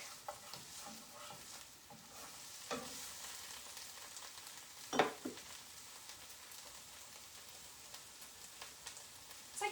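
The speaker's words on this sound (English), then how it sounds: "Add in my dried herbs. Give this a stir." A spoon stirs pizza soup with dried herbs in a pot on the stove, making soft scraping and sloshing strokes over a faint steady simmer, with one sharper clatter partway through.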